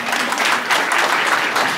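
Audience clapping at a Sri Sathya Sai Baba birthday celebration in Jagtial, a loud, dense burst of applause from a crowd filling the whole moment, with no voices standing out.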